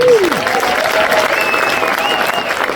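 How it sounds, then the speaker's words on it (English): A crowd at a leadership meeting applauds. Steady, loud clapping runs throughout, with a few whoops and cheers rising above it. "Give Daniel a big round of applause."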